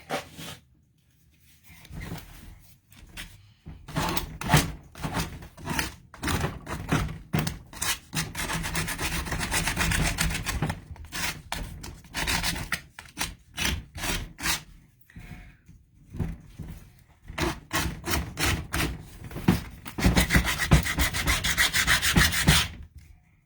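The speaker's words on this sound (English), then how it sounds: "I want to get a little sandpaper on this real quick" Sandpaper rubs back and forth over the wood of a handmade bird house in bursts of quick scratchy strokes, close and fairly loud, with short pauses between runs.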